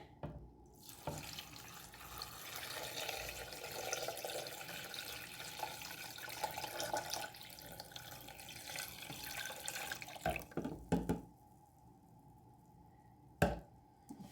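Water pours steadily into a container for several seconds, a continuous splashing rush that stops near the end, followed by a couple of brief knocks.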